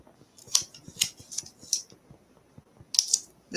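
Scissors snip at paper in a quiet room. The blades close crisply in a handful of separate cuts, with short pauses between them, close to the listener.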